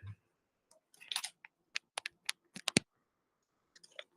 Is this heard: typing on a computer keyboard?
yes